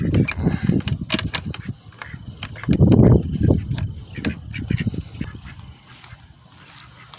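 Ducks quacking in short, loud, irregular bursts while being shut away for the night, close by, with a brief quieter stretch before the calls pick up again.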